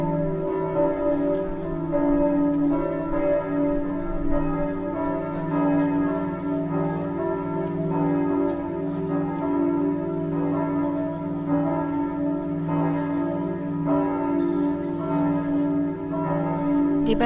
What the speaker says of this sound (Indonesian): terdapat lonceng gereja Sint Servatius yang dikenal dengan nama Chramir, yang terbuat dari logam perunggu.